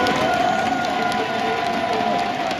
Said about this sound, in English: the French crowd is insane.